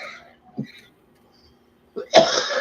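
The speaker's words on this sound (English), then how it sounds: "Love that cardiac cough." Two short, rough coughs, one brief and one longer and louder near the end, with near silence between them.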